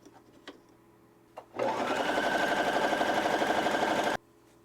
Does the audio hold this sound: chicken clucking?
no